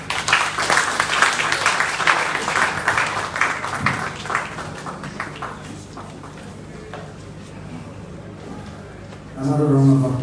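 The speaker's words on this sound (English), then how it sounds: "Another round of applause for" Crowd applause at an NPP campaign rally in Lapaz, Ghana, loud and dense at first and then thinning to a softer patter, with a burst of voice or music near the end.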